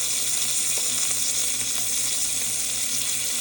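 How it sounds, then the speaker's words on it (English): Pork tenderloin sears in a hot pan, a loud, constant, close sizzle that holds steady throughout with faint occasional shifts and no voices. "Because I want to sear each side."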